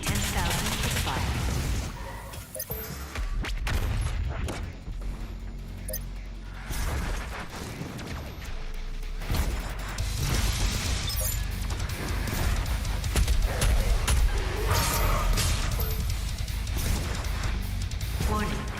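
Rapid, heavy weapon fire from the BFG 10,000 in Doom, with dense bursts and crashes sustained throughout at a loud, close level, and a voice talking over the gunfire.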